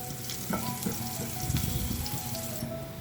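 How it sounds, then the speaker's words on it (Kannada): Crushed garlic sizzles steadily in hot oil, a close, continuous frying crackle with a few brief stirring knocks, no voices. "ಜಜ್ಜಿರೋ ಬೆಳ್ಳುಳ್ಳಿ ಇಷ್ಟನ್ನು ಹಾಕಿ ಸ್ವಲ್ಪ ಫ್ರೈ ಮಾಡ್ಕೋಬೇಕು"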